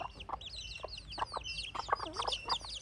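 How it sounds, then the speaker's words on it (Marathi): Free-roaming village hens in a Konkan village cluck and chirp in quick, repeated bursts, close and fairly loud, with no talking. "ह्या गावठी कोंबड्या अगदी असं मुक्त विहार करत असताना"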